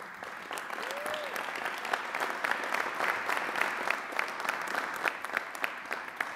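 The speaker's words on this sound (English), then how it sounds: "That is a line that is worthy of applause." A crowd at a Louisville event announcing a federal grant for the ReImage program breaks into sustained applause. Many hands clap in a moderately distant, even roar that holds steady throughout.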